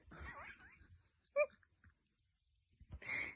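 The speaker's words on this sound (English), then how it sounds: "I've got hiccups." Hiccups from a person, a sharp isolated hic near the middle and another burst near the end, close and fairly loud, with a voice talking briefly at the start.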